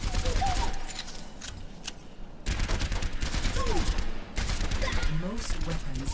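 Rapid bursts of gunfire aimed at training bots in the video game Overwatch, sustained crackling volleys with short breaks over game music and effects.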